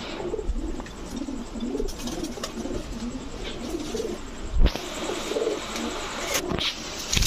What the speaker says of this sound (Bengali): এইসব হচ্ছে কবুতর